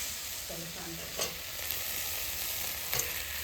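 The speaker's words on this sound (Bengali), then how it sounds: "মাছটা আমি হালকা ভেজে নিচ্ছি" Fish lightly frying in a pan gives a steady, close sizzle with a few louder spits and pops, and no one speaks.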